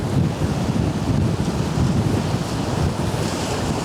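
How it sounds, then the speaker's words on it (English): Strong outdoor wind blows and buffets a microphone at a campsite, a loud continuous rushing roar with gusty swells and no talking. "this wind that's blowing from the west to the east"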